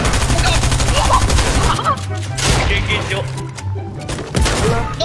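Rapid gunfire rattles in the Fortnite video game, dense volleys that thin out midway before resuming, while players talk excitedly over the shots.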